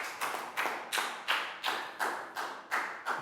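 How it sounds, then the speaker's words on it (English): A small class of pupils gives a round of applause, loose rhythmic claps in a regular beat of about eight strikes, each a sharp close crack with a short tail, no talking. "Big round of applause for Pak Bung."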